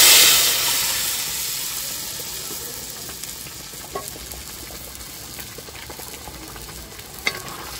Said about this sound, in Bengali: সাথে দুটো শুকনো লঙ্কা ফোড়ন দিচ্ছি